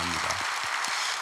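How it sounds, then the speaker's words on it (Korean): Church congregation applauding a choir and vocal ensemble at a special dawn prayer service, a brief steady wash of clapping. "그 찬양대와 중창팀을 위해서 감사와 격려하는 박수 하겠습니다"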